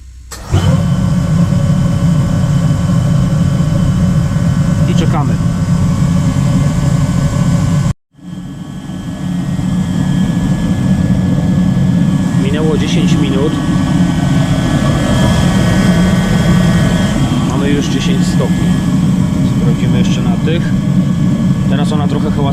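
A PowerMat 30 kW heater warming a garage runs with a loud, steady mechanical roar and blower hum, cutting out for a moment before restarting and holding a constant drone, with a voice speaking over it.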